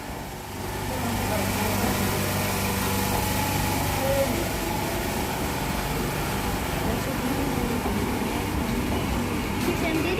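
A Bongaon train moving through a station, a steady, rumbling engine and rail noise that holds for about ten seconds, with faint background voices mixed in.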